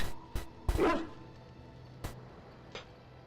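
A dog in Dragon Age: Origins gives one loud bark with a clipped yip after it, then only faint, scattered sounds follow in a quiet, low-level game scene.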